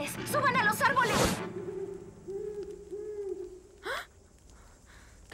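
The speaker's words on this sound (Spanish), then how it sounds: "es solo una lechuza" A cartoon owl gives a single drawn-out hoot in a dark Halloween forest, following frantic voices and a rustling burst, then a brief whoosh afterward.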